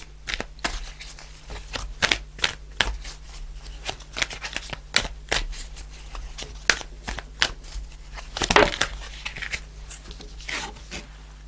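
Tarot cards being shuffled and riffled by hand during a card reading, a steady run of soft papery flicks and snaps with a louder burst of riffling near the end, close and clear with no talking.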